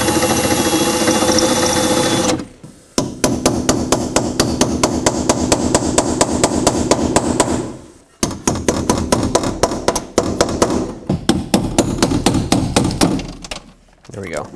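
Rapid pneumatic or power-tool hammering drives out rivets on a 2001-2007 Volvo V70 window regulator, loud and close in long bursts of repeated impacts with brief pauses between them.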